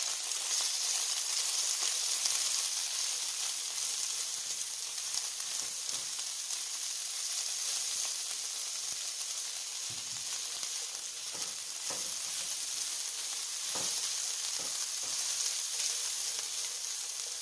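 Cauliflower rice with corn, carrots, peas and cayenne sautéing in a pan, giving a steady, close sizzle and fry hiss throughout with occasional soft stirring clicks.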